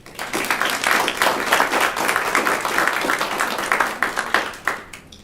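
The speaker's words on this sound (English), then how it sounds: "Let's give them a round of applause." An audience claps for inductees at a university honor society induction ceremony, a dense burst of many hands that starts abruptly, holds steady and then thins out into a few last claps.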